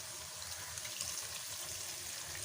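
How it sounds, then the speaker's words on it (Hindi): Steady, soft sizzling and crackling as hot oil tempering is poured into mustard greens for sarson ka saag, a continuous hiss with no voices. "अब हम इसके अंदर ये तड़का डाल देते हैं।"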